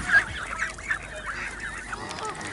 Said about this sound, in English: There's quite a lot of honking.